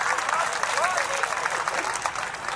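Applause from a crowd at a political rally, a steady wash of clapping running through the whole stretch with a voice speaking over it.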